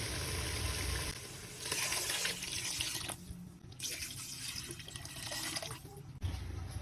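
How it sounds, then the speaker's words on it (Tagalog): Water streams steadily into a cooking pot of sautéed chicken tinola, a continuous close splash and gurgle that runs throughout with no talking. "At maglagay po tayo ng tubig."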